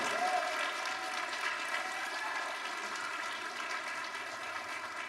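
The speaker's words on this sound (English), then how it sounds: "give them another round of applause, please" Steady applause from a school winter band concert audience, a dense continuous patter of clapping holding at an even level throughout.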